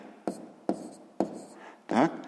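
Numbers being written with a pen during a sixth-grade maths exercise, heard as four close, distinct scratching strokes spaced about half a second apart, the last one longer and louder.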